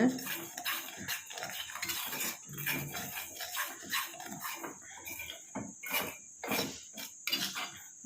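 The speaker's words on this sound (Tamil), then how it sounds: "கொஞ்சம் கை எடுக்காமல் அந்த மாதிரி கிளறி விட்டுக்கிட்டே இருங்க" Spoon scraping and clinking around a bowl while a homemade hair-dye mixture is stirred without pause, a close, steady run of soft taps and scrapes with no talk.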